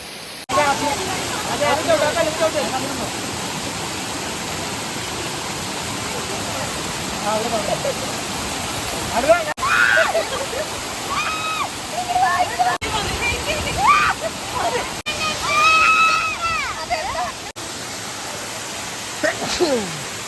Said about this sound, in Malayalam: നമ്മൾ വാട്ടർഫോളിന്റെ അടിയിലെത്തി.